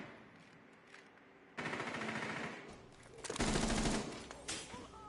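Automatic gunfire from a tactical shooter esports playoff match arrives in quiet, rapid bursts, growing denser and louder toward the end amid a muffled background din.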